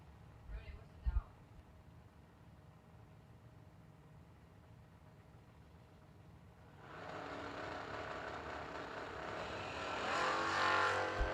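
A 1984 Camaro drag race car at a drag strip event. A faint engine rumble builds into a loud, sustained roar that rises further near the end, with a brief knock early on.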